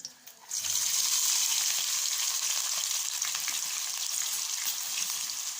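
Garlic, onions and green chillies hit hot oil in a pan with a loud, steady hiss of frying that bursts in and holds evenly throughout, with no talking.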